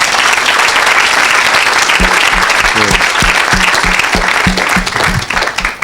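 A church crowd at an evangelistic healing service in France claps loudly and steadily, with rhythmic clapping picking up partway through, the whole congregation near and dense.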